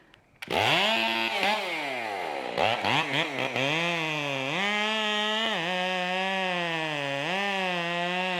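A chainsaw cuts down a pine tree: a loud, close engine starts after a brief pause, revs up and down unevenly, then holds a steady, buzzing high-revving drone with small dips as the chain bites through the wood.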